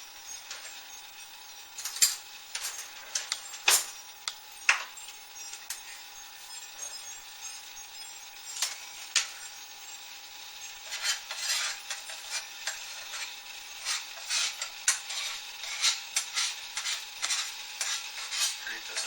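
Excess roasted dandelion root coffee grounds are scraped out with a utensil, in a series of short, sharp metallic scrapes and clicks, sparse at first and then quicker and denser, close and fairly quiet.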